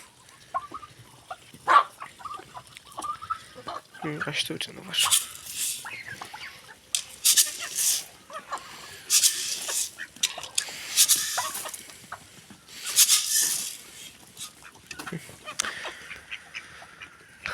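Backyard hens, including Sussex birds, clucking and squawking at evening feeding time in a henhouse yard, with scattered bursts of calls and scratching close by, and a person speaking briefly.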